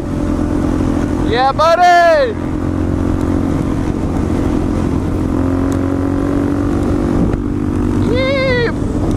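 Several supermoto motorcycles ride in a pack through Los Angeles streets, engines droning steadily close by with rising and falling revs, while people cheer and shout over the noise.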